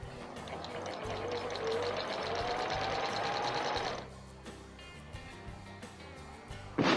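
A sewing machine stitches fabric in one steady, continuous whir for about four seconds, then stops, leaving quiet handling noise and a sharp clunk at the end.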